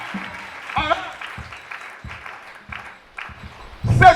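A church congregation claps in rhythmic bursts during a sermon, with a voice calling out over the applause and a louder surge of clapping at the close.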